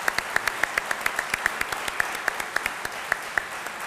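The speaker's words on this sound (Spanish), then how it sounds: "le agradecemos al doctor Mercer con un aplauso" A small audience claps for a speaker after a talk. The applause is modest and close, with a few distinct sharp claps standing out over a softer, steady patter.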